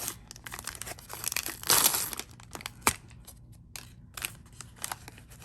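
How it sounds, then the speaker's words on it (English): Monster High doll packaging, a Fearidescent Lagoona Blue box, being ripped open: close crinkling and tearing of plastic and cardboard, with a loud rip near the middle, a sharp snap after it, and softer rustling throughout. "I guess you just rip it open."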